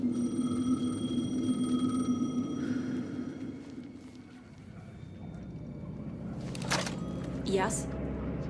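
A telephone rings in the horror video game Alan Wake 2, a steady buzzing trill that fades out as other game sounds and a voice come in over a low ambient drone.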